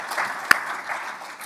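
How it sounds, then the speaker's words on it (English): An audience at an economic forum in Belgrade applauds the panelists, giving brief, warm clapping with one sharp knock or bump partway through. "please join me with really warm applause for our brilliant panelists"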